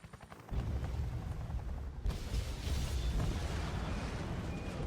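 Helicopter touching down on a sinking ship in Resident Evil Revelations, a loud continuous low rumble and roar that swells after a quiet start, with a heavy thud near the middle and no talk.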